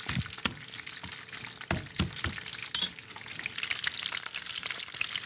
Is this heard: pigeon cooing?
no